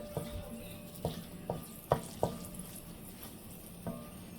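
Chili frying in hot oil in a home kitchen pan, a soft steady sizzle with a few sharp pops and stirring clacks spaced through it, close and moderately quiet.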